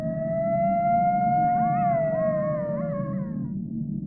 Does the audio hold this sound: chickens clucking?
no